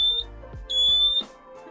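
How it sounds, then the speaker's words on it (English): A smoke alarm inside a camper van sounds two shrill, high-pitched electronic beeps, the second longer, close by over a low rumbling background hum. "We have our little smoke detector that went off here while Valerie is filming us."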